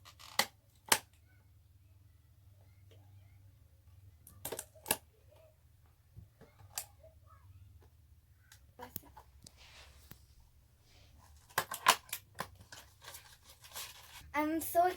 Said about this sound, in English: I'm going to use these scissors to open this.